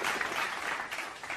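A burst of applause, many hands clapping in a dense steady patter for a moment.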